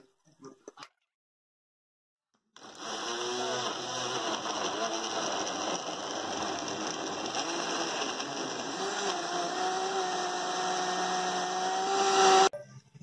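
After a short pause, a blender blending sweet potato with water starts up and runs loud and steady for about ten seconds, its motor pitch rising slightly before cutting off.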